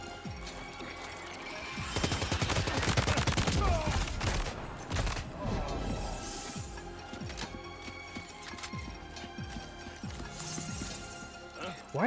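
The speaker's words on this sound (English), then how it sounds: "Here, let me pull out my assault rifle." Assault rifle fire in Death Stranding 2: dense, rapid bursts of shots crackle loudly for a few seconds early on, then thin out into scattered impacts and game clatter with ambient effects underneath.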